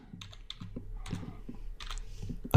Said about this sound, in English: I'm going to type in title